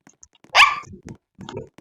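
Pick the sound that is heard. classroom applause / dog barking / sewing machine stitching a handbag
dog barking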